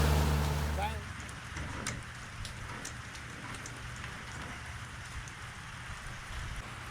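Rain falls outdoors after a bent propeller shaft repair test, a steady soft patter with scattered sharper drops, following a brief louder rumble at the start.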